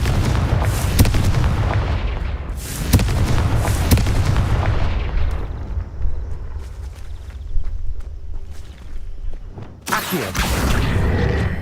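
A Confringo spell in Hogwarts Legacy sets off loud, booming, explosive blasts in repeated bursts, with a rumbling tail between impacts and a final burst near the end; no talk.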